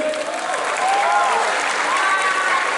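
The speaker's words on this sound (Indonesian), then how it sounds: "tepuk tangan sekali buat Demis" Audience applause for Demis at a live charity concert, steady dense clapping from a crowd throughout, with faint tonal voices or whistles rising above it.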